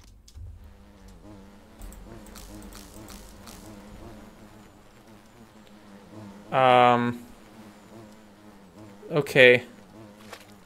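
Buzzing bees around a hive in a video game, a steady insect drone with two louder, close passes of buzzing near the end, while a person talks briefly over it.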